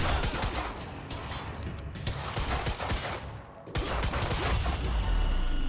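Continuous gunfire in the video game Quantum Break, a dense fusillade of rapid shots with a brief lull near the middle before the shooting surges back loud and close.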